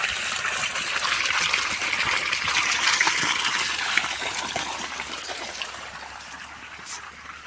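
Irrigation water gushes and splashes steadily into a dug pit around a young coconut sapling on a farm, a continuous close rushing sound that eases slightly toward the end.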